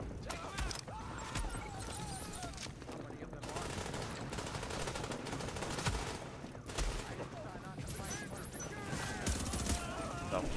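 Enemy gunfire in the video game The Division, update 1.5: sustained bursts of rifle and automatic fire crackling from several shooters at once, steady and fairly close for the whole stretch.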